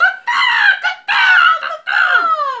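A person imitates a seagull call with three loud, drawn-out, wavering cries that fall in pitch, separated by short breaths.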